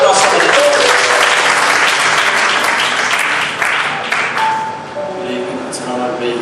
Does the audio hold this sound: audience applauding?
yes